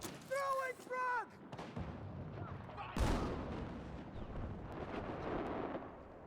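Frag grenade blast in Battlefield 6, a sharp heavy explosion followed by rumbling battlefield gunfire and echoing booms, preceded by brief shouted voices.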